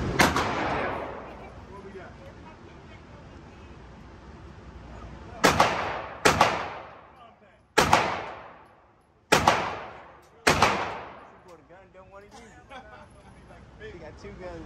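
Five loud, sharp gunshots ring out from two guns in quick succession, each with a decaying echo, over a background of people talking and voices outdoors.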